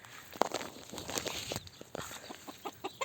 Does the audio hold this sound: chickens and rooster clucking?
yes